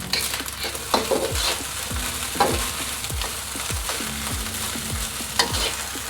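Shrimp fried rice being stir-fried in a hot wok, a loud constant sizzle with repeated rhythmic tossing and scraping strokes roughly every second, close and without voices.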